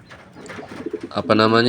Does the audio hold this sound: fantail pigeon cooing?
yes